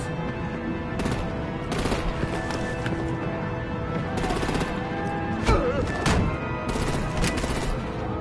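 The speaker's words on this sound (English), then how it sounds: "Break out the artillery and disable their vehicles!" Video game combat in Batman: The Enemy Within, with bursts of gunfire and sharp shots breaking out over a dense, busy mix of game sound and music, moderately loud.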